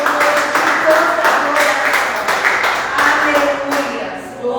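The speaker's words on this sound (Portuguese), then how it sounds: "Dê uma salva de palmas para o Senhor" A church congregation clapping together in praise, a steady dense wash of applause filling the room, loud and sustained, with a voice speaking over it.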